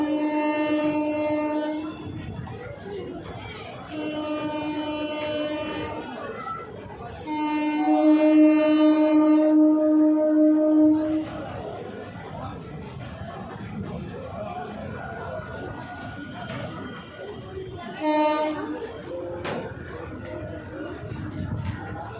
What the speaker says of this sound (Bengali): আরেকটা ট্রেন আসছে, তোমরা ভালো করে খেয়াল করে দেখো,